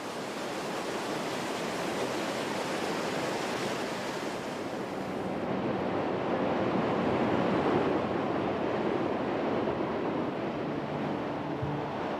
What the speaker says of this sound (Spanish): En una caída sin fin, las aguas arrastran un tremendo caudal de 600 metros cúbicos por segundo.